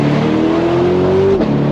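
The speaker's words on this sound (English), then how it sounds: "throttle response and the sound of that V8 is what makes this car what it is, and so full of character." The V8 of a 2021 Chevrolet Corvette Stingray C8 convertible pulls hard from inside the cabin, a loud rising engine tone climbing steadily before cutting off sharply near the end.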